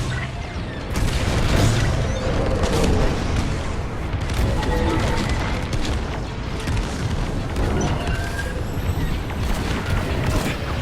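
Starfighter under fire in Star Wars: Squadrons, a dense, continuous roar of booming blasts and rumbling engine noise with sharp impacts scattered throughout, loud and sustained with no talking.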